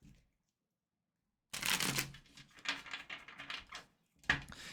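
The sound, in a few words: shuffling a new tarot card deck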